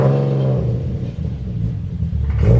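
A car engine rumbles deeply, revving up and settling back with a throaty exhaust tone, fairly close by.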